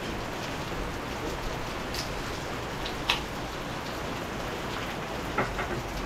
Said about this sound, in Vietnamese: ở ngoài trời mưa rất lớn luôn